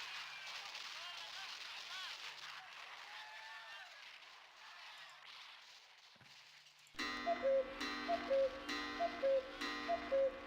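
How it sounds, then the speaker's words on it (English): In the horror game Harvester, a cuckoo clock ticks in a steady, evenly spaced beat after several seconds of quieter ambient sound with birdlike chirps, the ticking close and prominent. "How are we hearing the cuckoo?"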